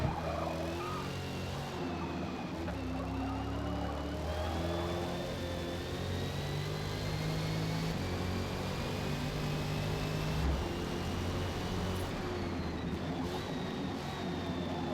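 A 1967 Corvette with a 500-horsepower engine in the racing game Forza Motorsport, its V8 drone rising and falling through gear changes in a steady, loud, continuous roar over fifteen seconds.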